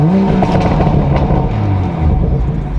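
A 2020 BMW M340i engine rumbles loud and close, revving with a throaty, continuous exhaust roar and small burbling pops throughout.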